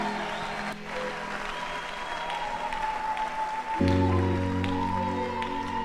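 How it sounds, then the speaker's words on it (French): A church congregation clapping in praise, steady applause mixed with voices, while a sustained instrumental chord enters partway through. "Applaudis très bien pour Jésus-Christ."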